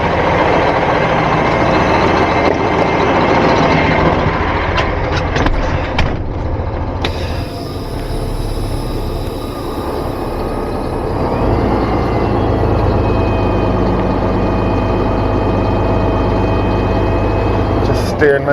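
A truck hauls a shipping container with a loud, continuous engine drone and road rumble that stays steady and close throughout.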